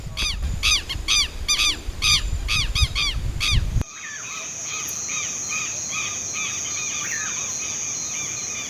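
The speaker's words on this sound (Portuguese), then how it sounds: "um dos cantos mais comuns de ouvir durante a noite de aves diurnas é o do famoso quero-quero" A southern lapwing gives a rapid series of harsh, repeated calls close by, then stops, leaving a steady chorus of crickets in the night.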